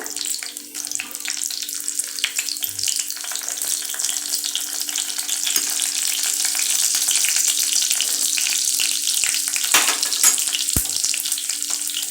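Four or five dried red chillies fry in hot oil, giving a steady, bright sizzle that runs loud and unbroken throughout, with a sharp click of a utensil near the end.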